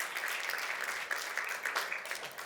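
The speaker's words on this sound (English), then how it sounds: "You have a big round of applause." A debate audience claps in a soft, steady patter of applause, fairly faint and heard on its own.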